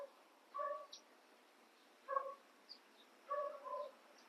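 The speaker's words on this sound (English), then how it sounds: "Dogs are barking." Three short bursts of distant dog barking, quiet and spaced out against a faint background, heard from a swimming pool.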